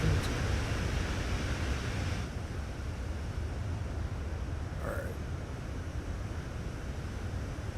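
Continuous, loud engine roar from an aircraft in Microsoft Flight Simulator 2024, a steady broadband rumble that eases slightly after the first couple of seconds and holds level to the end, with no one talking.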